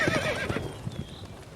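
Geralt's horse Roach in The Witcher 3 gives a short, loud, close neigh with a rising and falling whinny, followed by a brief clatter of hooves, with no talking.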